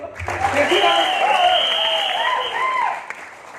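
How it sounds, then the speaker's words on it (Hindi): Audience applause breaks out for Maan Sahab at a success-story gathering, a steady wash of clapping with a voice talking loudly over it throughout. "मान साहब के लिए जोरदार तालियां।"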